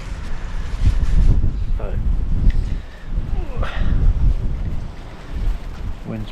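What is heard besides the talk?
strong wind blowing a gale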